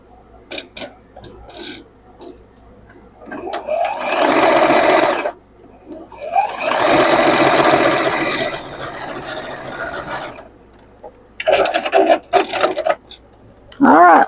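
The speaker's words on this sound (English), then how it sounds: "we're going to sew this down" A sewing machine stitches a quilt block in two steady runs of a few seconds each, close and fairly loud, with quieter handling noise and brief pauses in between.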